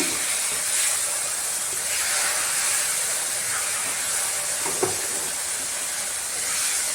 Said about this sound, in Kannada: ಇದು ಸ್ವಲ್ಪ ಒಗ್ಗರಣೆಯಲ್ಲಿ ಬಾಡ್ಸೋಣ